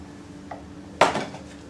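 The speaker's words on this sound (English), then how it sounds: "I'm going to take some of my coolis. Just put a spoon through it." A spoon clinks sharply once against a cheesecake plate while drawing through fruit coulis, preceded by a faint light tap; the ring fades quickly in a quiet room.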